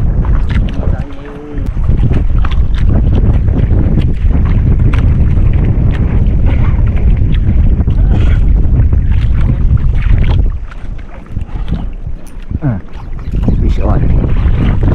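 Strong crosswind buffets a small fishing boat, a loud, continuous roar of wind across the microphone lasting throughout, with brief lulls and faint voices in the background.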